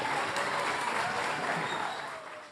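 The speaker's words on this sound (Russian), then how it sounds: "Поздравили там со сцены, все аплодировали" An audience at a celebration applauds steadily, dense clapping from a crowd that holds for a couple of seconds and then slowly tapers off.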